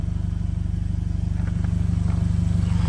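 A 2015 Mercedes CLA 250 4matic idling with its exhaust removed, a loud, close, rapid chugging pulse with a raw, unmuffled rattle throughout.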